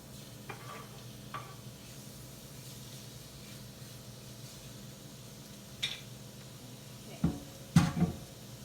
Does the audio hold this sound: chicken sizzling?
yes